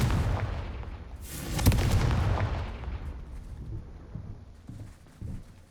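A Confringo fire spell blast in the Hogwarts Legacy video game, a loud booming burst around the second mark that rumbles and decays over several seconds, followed by fainter impacts and thuds.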